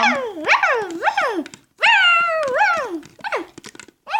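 A dog makes close, rising and falling whining, yelping vocalizations in uneven bursts, with one longer drawn-out cry near the middle and short pauses between calls.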